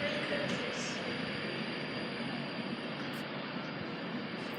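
Class 390 Pendolino electric train 390046 pulling out of Stockport station toward Manchester Piccadilly, a steady broadband rumble and hiss holding at moderate level throughout, with no clear rise or fade.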